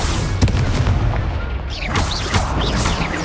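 Confringo spell blast in the Hogwarts Legacy video game, a heavy boom over constant battle noise with sharp cracks and whooshing magical effects around it, loud and near, no talking.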